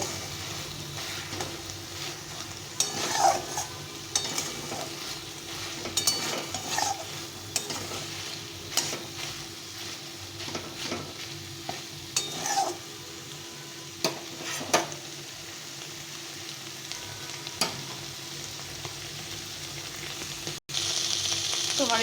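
Bitter gourd and potato frying in mustard oil, a continuous sizzle broken by repeated scraping stirs and occasional clinks of a spatula against the pan.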